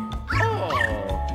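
A cartoonish dog from the video game Luigi's Mansion 3 gives a couple of close, yappy barks and whimpering yips, with a low background hum underneath.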